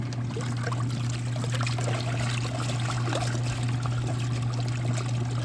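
Xtra Plus Odor Blasters laundry liquid pours in a steady close trickle into a washer, a continuous liquid stream over a low constant machine hum.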